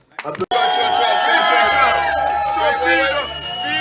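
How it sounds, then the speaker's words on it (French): Guests at a wedding dinner burst into cheering and whoops after a brief clatter, a dense crowd roar with voices shouting over sustained tones that carries on loudly to the end. "S'il vous plaît, applaudissements."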